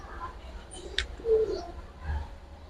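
Khaki pigeons in a loft give a soft low coo with faint chirps and rustling, close by and fairly quiet, with no talk.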